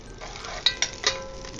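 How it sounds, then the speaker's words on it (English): Garlic dropped into hot olive oil in a Dutch oven, a soft steady sizzle with a few sharp clinks of a utensil against the pot, fairly quiet and close. "Gonna let that get hot, and then we're gonna drop our garlic and other aromatics in."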